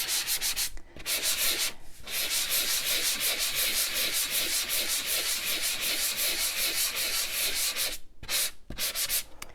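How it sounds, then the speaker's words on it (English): Rapid rhythmic scratching of a sanding block rubbing back and forth on a paper corner, loud and close, with a couple of brief pauses between strokes. "take our sanding block, and we're going to sand this corner right here"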